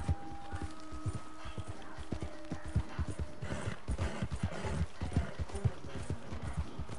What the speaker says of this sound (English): My horse just decided to run sideways on me.